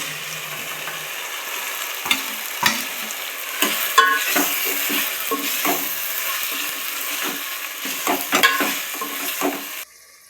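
Kathiyawadi undhiyu vegetables, including green garlic, cabbage and peas, fry in a pan while being stirred. A steady sizzle carries throughout, broken by repeated scraping strokes and clinks, until the sound cuts off near the end.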